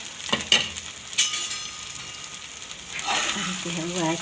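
Raw banana poha stirred and mixed in a pan, a few sharp scrapes and clinks of a spoon over a soft sizzle, with someone talking briefly near the end.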